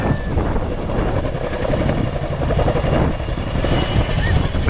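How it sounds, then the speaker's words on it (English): Chinook twin-rotor helicopter flying at the Cosford Air Show in England, a continuous loud rotor thump and engine roar close overhead, with crowd voices faintly underneath. "the Chinook demonstrated its excess of power compared to other helicopters in theatre"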